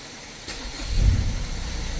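A click, then a Ford Ranger engine with a starting fault cranks and turns over into a low, steady rumble that continues to the end, heard from inside the car while it rains.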